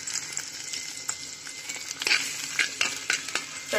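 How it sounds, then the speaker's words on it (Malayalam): Crushed ginger, garlic and green chillies sautéing in a hot pan for Kerala prawn roast, a close sizzle broken by a spatula's scraping stirs and light clinks, with no voices. "പിന്നെ കീഴ് വെച്ചേക്കുന്ന പച്ചമുളകും ഇട്ട് നന്നായിട്ടൊന്ന് വഴറ്റുക"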